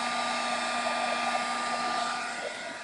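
A hair dryer blows steadily at close range to dry paint on a butterfly canvas, giving a continuous, even whirring hum that fades slightly toward the end.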